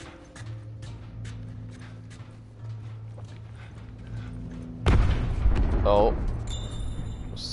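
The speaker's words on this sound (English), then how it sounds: "Some explosions." A sudden loud boom breaks over a steady low hum and rhythmic tapping, followed by a rumbling blast and crackling debris, close, from The Last of Us Remastered on Grounded difficulty.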